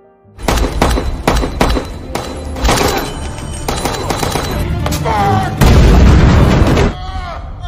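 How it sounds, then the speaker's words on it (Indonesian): A loud, chaotic explosion in a church, with blasts and crashing debris, heavy booms and rattling impacts piling up over several seconds. "Max tega meledakkan salah satu pasukannya yang sedang berduel."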